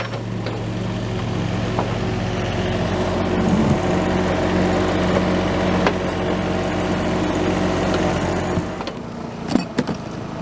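An excavator digging an electrical service trench through a flat layer of rock runs with a loud, steady engine drone, ending in a few sharp clanks near the end.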